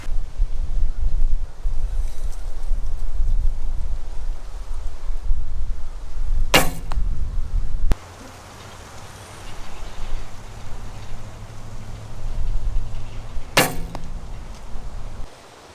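Arrows fly off a recurve bow with a 27-inch Hoyt Exceed riser and extra-long Velos limbs, outdoors in wind. Two sharp shots ring out several seconds apart over steady wind rumble on the microphone.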